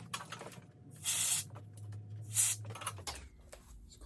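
Two bursts of hissing spray cleaner on a Stihl BR400 backpack blower, one around a second long and another shorter, over a low steady hum with faint handling noises.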